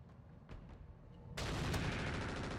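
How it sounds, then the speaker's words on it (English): Gunfire in the mech video game RogueTech, a few faint, scattered shots followed by a sudden loud burst of sustained rapid fire that continues to the end. "They're shooting at the Nidhogg."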